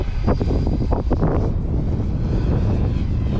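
A mini full carbon fiber RC helicopter flies in 3D mode with a steady loud whine and rotor rush, buffeted by wind noise on the microphone throughout.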